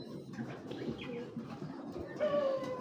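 A young imported Iranian male racing pigeon gives soft, quiet coos and chirps, close by and faint, with low background noise.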